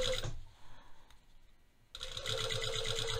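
A sewing machine stitches elastic onto the wrong side of a pair of trousers, its steady motor whir running in two loud bursts separated by a quieter pause, close up with no talking.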